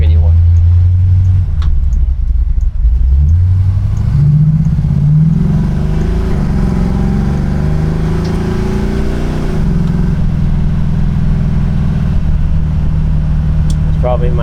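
A neighbor's car passes by and speeds up, its engine note climbing and rising in pitch as it accelerates, with people talking over it nearby.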